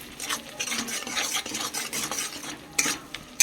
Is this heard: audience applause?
no